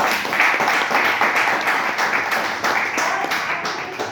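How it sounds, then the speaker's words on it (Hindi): A seminar audience claps loudly and continuously, a close, energetic burst of many hands with slight rhythmic surges throughout. "चाहती हूँ जोरदार तालियां मैडम के लिए"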